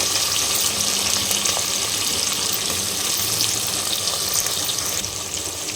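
Steady hissing sizzle of chopped capsicum half-frying in hot oil for capsicum chicken, continuous and even with no talking over it.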